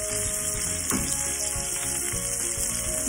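Steak coated in a blue cheese crust sizzles steadily in a hot pan, a close, continuous frying hiss with a brief louder crackle near the start, no talking.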